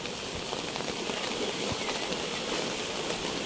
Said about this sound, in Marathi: बघा नदीला एवढं पाणी, स्पीड भरपूर आहे पाण्याचा.